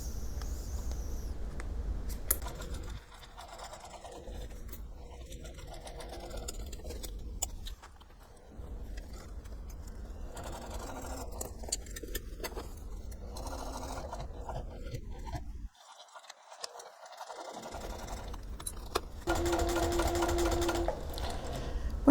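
A sewing machine stitching a fabric shoulder bag, close and mechanical, running in several bursts of steady whirring and clicking separated by short stops, with backstitching at the ends of seams.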